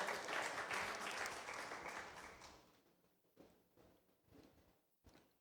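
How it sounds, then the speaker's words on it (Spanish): A church congregation applauds loudly at first, then the clapping fades within a few seconds, leaving scattered taps and shuffling. "¿Cuántos le pueden dar un fuerte y sonoro aplauso al Señor?"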